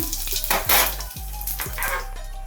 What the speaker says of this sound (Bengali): এই তেলের ভিতর আমি হাফ চামচ আস্ত জিরা দিয়ে দিলাম